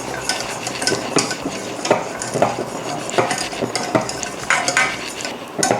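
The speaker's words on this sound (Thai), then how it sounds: "ตีผสมให้ทุกอย่างเข้ากันนะคะคุณผู้ชมเพื่อที่จะให้ได้น้ำสลัดที่มีเนื้อเนียนนะคะ" Salad dressing ingredients being whisked together in a pan, with quick continuous scraping and clinking strokes of a utensil against the metal, close and steady throughout, no voices.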